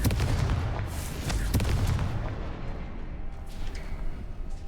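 Confringo explosive spell cast in the video game Hogwarts Legacy, a loud booming blast with rumbling low end that fades over a few seconds.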